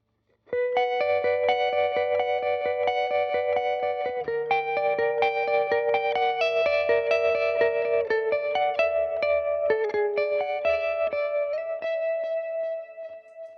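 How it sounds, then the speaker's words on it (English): A Rickenbacker 360/6 electric guitar, recorded in mono with both pickups on one track, plays a chiming sequence of notes and chords, bright and ringing, steady and upfront, then stops abruptly near the end. "this is the Rickenbacker in mono with both pickups in the same track"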